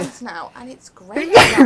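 A single sharp sneeze bursts out loud and close right after a short stretch of talking in a sewing and quilting workshop.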